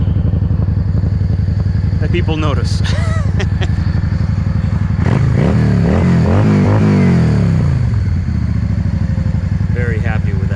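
A Yamaha V-Star cruiser motorcycle rumbles steadily while riding, its deep exhaust pulse loud and constant, with revs rising around the middle as a rider talks over the engine.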